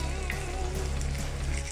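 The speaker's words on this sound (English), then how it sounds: "Oh, hear that sizzle!" Steady, soft sizzling from a burger patty frying in a pan, a continuous crackly hiss with a low hum underneath, no voices.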